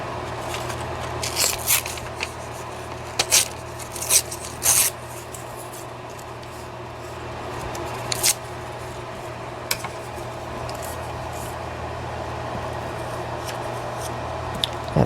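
Scissors snip through paper while a window envelope pocket is being made, a quiet room tone broken by several short crisp cuts in irregular bursts, mostly early on, with a few isolated clicks later.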